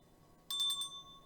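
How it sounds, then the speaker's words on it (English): Bells ring softly in a short, quick cluster of bright chimes that leave a thin lingering tone against a quiet background. "The bells always ring when the angels are near."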